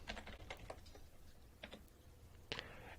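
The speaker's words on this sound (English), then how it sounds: "Feel free to just type in any password of your choosing" Keys on a computer keyboard are tapped in short, quiet clusters of clicks with brief pauses between bursts, close and faint, with no talking.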